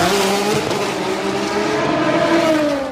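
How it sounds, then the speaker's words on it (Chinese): A Porsche 911 RSR race car roars past at Le Mans, its loud engine note rising and falling steadily through the whole stretch, close and continuous with no voices. "最为狂躁的则是保时捷自家的 911 RSR 赛车，在主看台上几乎要达到你必须戴上耳塞才能忍受这台赛车巨大"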